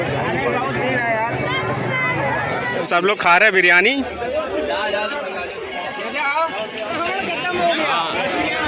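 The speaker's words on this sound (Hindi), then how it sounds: "देख सकते हैं भैया कितनी भीड़" Dense crowd hubbub at the Armapur Dussehra fair in Kanpur, many voices overlapping in a steady close babble around food stalls, with a nearby person speaking over the noise.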